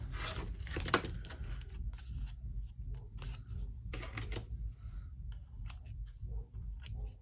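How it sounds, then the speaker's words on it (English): Rotary blade trimming the edges of paper art journal tags, heard as a series of short, close, dry cutting and rubbing strokes with irregular rhythm over quiet room noise. "I'm trying to get a better trim job when I use my rotary blade."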